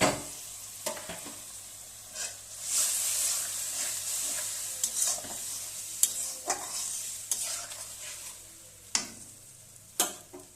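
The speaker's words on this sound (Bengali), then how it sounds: "এবার অল্প করে জল ঢেলে এটা আমি ফুটিয়ে নেব" Water poured into masala in a pan for butter paneer bubbles and sizzles steadily, with intermittent sharp clicks and scrapes of stirring punctuating the hiss, close and moderately loud, no talking.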